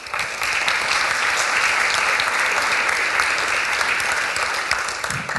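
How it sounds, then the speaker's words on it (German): Lecture audience applauding a physics speaker after his introduction: a full, even round of clapping from a sizable hall, sustained at constant loudness with no talk over it. "Erstmal auch für den Applaus"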